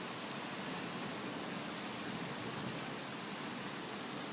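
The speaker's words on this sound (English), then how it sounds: "It's coming pouring down like crazy." Heavy rain pours steadily in a dense, unbroken hiss throughout a stormy night in St Catherine's, with no voices.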